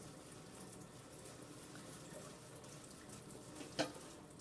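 Water runs steadily from a tap into a sink as a hand is rinsed, a soft continuous hiss at low volume with a brief splash near the end.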